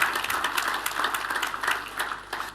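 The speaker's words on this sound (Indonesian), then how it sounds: "Kita tepuk tangannya boleh yang paling meriah buat Tuhan kita" A church congregation claps together in a steady, dense patter of applause that holds evenly for a couple of seconds, moderately loud and without voices.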